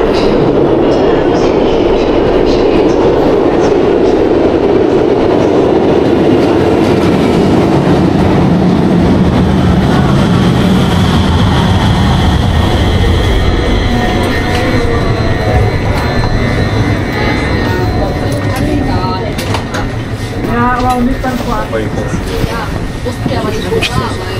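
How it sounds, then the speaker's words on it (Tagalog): Continuous rumble of a train running on rails in Cologne, Germany, with steady rattling and clatter from the cars and people talking faintly underneath. "Tapos isang tren pa uwi."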